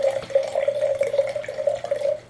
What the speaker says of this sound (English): I was going to get my aerator, but I'll do a rough pour